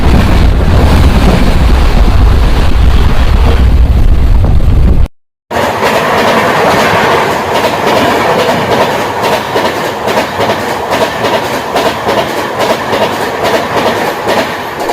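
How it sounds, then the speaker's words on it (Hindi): The Nauchandi Express sleeper coach clatters along the track with a steady, loud rhythmic clickety-clack of wheels on rail joints, plus wind rush and a brief dropout. "ट्रैक साउंड आ रही है, क्या गज़ब है"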